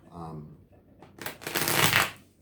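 A deck of cards is riffle-shuffled close by, a quick rising flutter of snapping cards that ends in a short burst, following a brief bit of talk.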